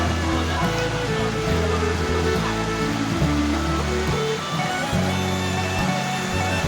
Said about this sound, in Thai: ก็จะมีลานน้ำที่เป็นลานน้ำไหลนะครับเป็นลานหินนะครับเป็น ลานน้ำตก